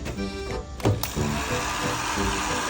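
Small motorized blower running at steady speed, a loud close whirring hum with a brief surge and click as it powers on partway through.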